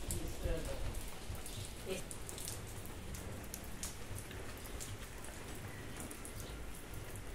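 Steady rain patters down outdoors in a broad, even hiss with scattered drop ticks, while people talk nearby.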